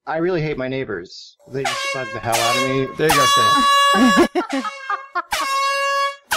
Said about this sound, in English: people going on for too long, they're going to get the air horn, which sounds like this.